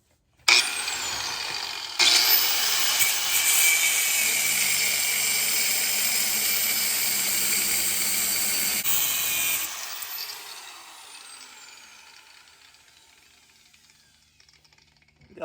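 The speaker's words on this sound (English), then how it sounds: "We're gonna cut it off, this little chassis tab, grind it, prep it to weld on the new one." A power tool cuts off and grinds a metal chassis tab, a loud, high, steady whine that starts abruptly, holds for several seconds, then winds down and fades as the tool spins to a stop.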